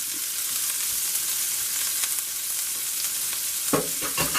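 Roughly a quarter cup of leftover chopped onion hits a hot pan and fries with a steady, loud sizzle, followed near the end by a few stirring scrapes.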